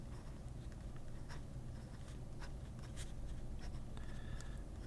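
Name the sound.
writing with a Pilot fountain pen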